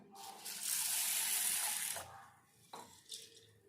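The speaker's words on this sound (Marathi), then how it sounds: "ह्यात घातले मी पाणी" Water gushes strongly into a bowl of sago for about two seconds, then stops, followed by a brief second splash.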